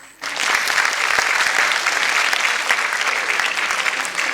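Audience applause at a school annual day, a dense, steady burst of many hands clapping that starts abruptly and holds loud and even for several seconds.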